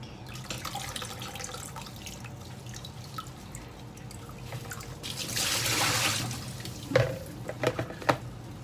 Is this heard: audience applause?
no